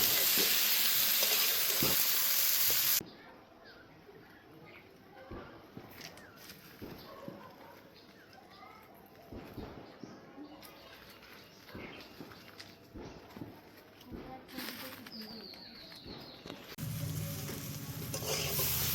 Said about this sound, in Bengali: অনেকক্ষণ ধরে কষিয়ে নিয়েছি, হয়ে গেছে ভাজা